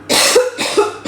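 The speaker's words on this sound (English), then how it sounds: "pardon me with that coughing fit" A woman coughs in a fit, three harsh bursts in quick succession with a brief throat-clearing catch between them, close and loud with no talk.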